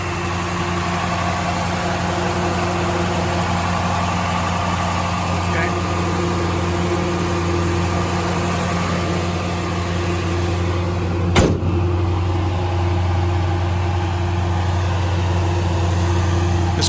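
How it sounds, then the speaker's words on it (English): A 1972 Chevrolet Nova engine idles steadily, heard close from the engine compartment with a smooth, even hum and no misses, alone apart from one brief click near the end. "Check out how it sounds from the engine compartment."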